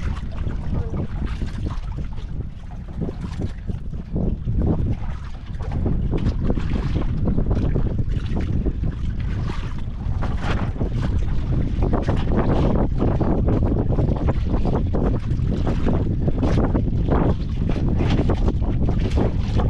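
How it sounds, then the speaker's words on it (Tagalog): Strong wind roars across the microphone aboard a fishing boat at sea, a loud, steady buffeting that runs the whole time with a low rumble of the boat and water beneath it. "Angin pa rin idol."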